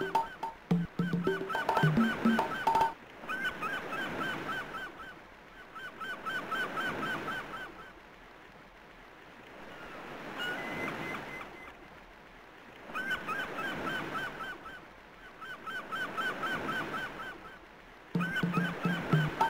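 A pelican's honking calls repeat in slow swelling waves, close and fairly loud, at a beach in the Hopkins FBI video game, with no one speaking.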